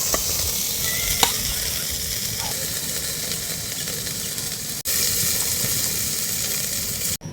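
Chicken tossed with soy sauce sizzles and hisses in a pan while being stirred, a steady close crackle with brief scraping touches and a couple of short breaks.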